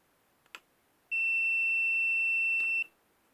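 A VEVOR infrared temperature gun sounds a single steady high-pitched electronic beep lasting nearly two seconds after its threshold is exceeded, preceded by a faint click, loud and close.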